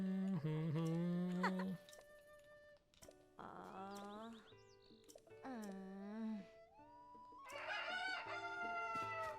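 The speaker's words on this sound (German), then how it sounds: "Seltsames Huhn also." A chicken in Zelda: Tears of the Kingdom, a strange talking oracle bird, gives loud, close clucks and crowing squawks in several bursts separated by short pauses.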